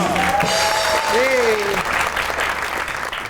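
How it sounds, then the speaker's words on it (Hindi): A talk show studio audience applauds steadily and loudly throughout, with a melodic tone sliding over the clapping early on. "आपकी बहुत सी तालियों में"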